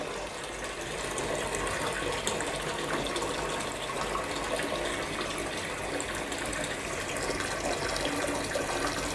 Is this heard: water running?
yes